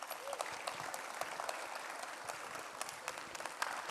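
An audience at an annual conference applauds a poet after her performance, fairly faint, scattered clapping with individual claps audible and a slight swell toward the end.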